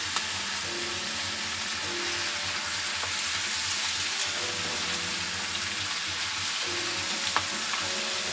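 Fresh spinach sautéing in a hot pan, giving a steady, even sizzle and crackle that holds throughout with no one speaking.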